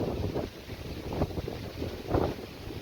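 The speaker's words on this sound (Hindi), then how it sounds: "ये इस वक्त यहाँ का मौसम हो रखा है, तगड़ी हवा चल रही है" Strong wind blows outdoors in a village, buffeting the microphone with a steady low roar that swells into gusts, with no voices over it.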